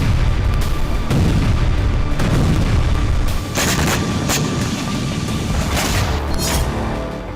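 Missile strikes and heavy explosions in Ukrainian cities during the Russia–Ukraine war, a dense, continuous rumble of booms and blasts with sharp cracks throughout, loud and close, no voices.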